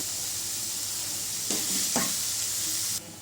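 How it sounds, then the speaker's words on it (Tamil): Fried rice with capsicum is stir-fried over a high flame, giving a continuous loud sizzle. Two brief scraping stirs of the pan stand out in the middle, and the sizzle eases off abruptly at the end. "ஹை ஃப்ளேமில் வச்சு நல்லா மிக்ஸ் பண்ணிக்கலாம்."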